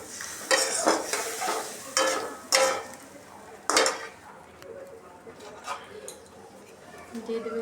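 Ground spices with turmeric powder and a splash of water cook in a pan for a fish-head muri ghonto, with a spoon scraping and stirring in several sharp bursts over a soft, steady sizzle.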